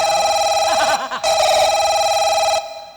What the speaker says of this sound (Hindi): हाँ तेज घंटी आवे, घंटी कर रहा है का आवे।